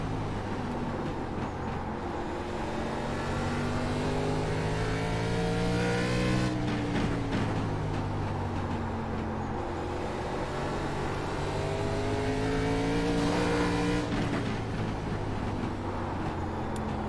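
Race car engine in the iRacing simulator during a National Series race at South Boston, a steady loud roar with rising and falling pitch sweeps as the car accelerates and shifts, running continuously without talk.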